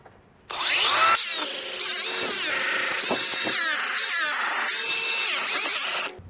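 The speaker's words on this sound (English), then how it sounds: "See how many times I can bog it down within 2 minutes?" A brushless angle grinder fitted with a wire brush whines loudly and continuously, its pitch repeatedly sagging and recovering as it bogs down under pressure, with gritty scraping throughout.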